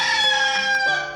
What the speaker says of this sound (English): R, rooster.